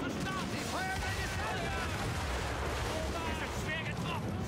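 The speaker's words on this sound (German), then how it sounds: "Sie schießen mit Feuer." Ship cannons fire during a naval battle in the video game Assassin's Creed Rogue, rumbling booms and crashing water blending into a dense, continuous loud mix with excited voices talking over it.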